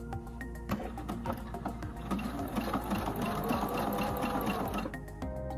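Sewing machine running a backstitch seam, a steady rapid needle chatter that holds nearly continuous for about five seconds, close and alone without talk.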